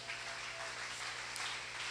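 Church congregation applauding during a French-language service, a steady wash of clapping from many hands, moderately distant and even in loudness, no voices standing out.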